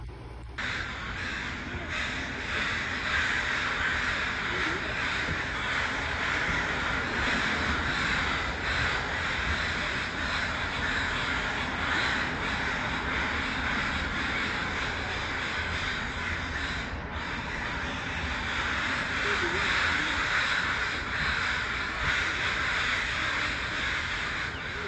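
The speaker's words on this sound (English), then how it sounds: "Even the crows are squawking away." Crows cawing outdoors in cold winter weather, repeated harsh calls from several birds over a steady background hiss, fairly distant and without any speech.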